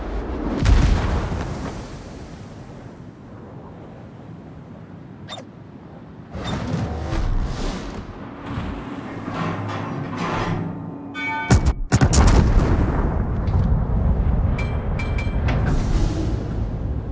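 Battleship main guns fire in the naval game World of Warships, with heavy booming blasts and rumbling reverberation, several loud shots spread across the stretch amid ongoing engine and sea ambience.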